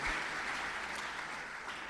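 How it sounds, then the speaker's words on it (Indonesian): A church congregation claps hands together during a Christmas worship service, a steady dense wash of clapping that stays even throughout with no voices over it. "Mari kita tepuk tangan memberi kemuliaan bagi nama Tuhan."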